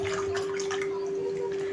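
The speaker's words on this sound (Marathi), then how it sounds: "6 पेले पाणी टाकलेलं आहे" Cold water pours steadily into a buttermilk mixture in a home kitchen, a soft continuous splashing and trickle with a faint steady tone behind it.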